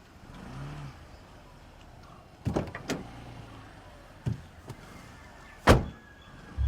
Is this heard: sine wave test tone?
no